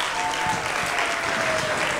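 Live applause greets a finalist at a spoken-word final in an auditorium, a thick, continuous clapping from a full hall that stays loud and even through the moment.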